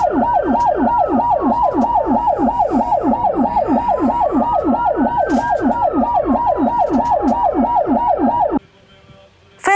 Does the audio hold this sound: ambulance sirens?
yes